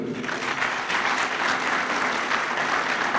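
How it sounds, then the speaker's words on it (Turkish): A crowd at an Ahilik Week celebration applauds steadily, a dense patter of clapping hands sustained throughout without pause. "yakışıklı Bilal Başkanımıza bir alkış istiyorum."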